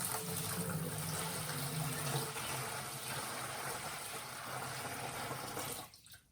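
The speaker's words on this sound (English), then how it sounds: "we're filling up the fermenter with 5 litres of water" Five litres of water pouring into a home-brew fermenter from a Mangrove Jack's starter brewery kit, a steady loud gushing fill that holds evenly, then cuts off abruptly near the end.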